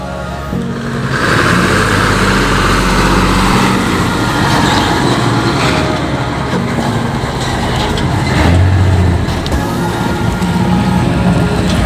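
A bus engine rumbles loudly and steadily at a repair shop while the bus maneuvers through a narrow gate, with a low drone and occasional rises in the engine note throughout.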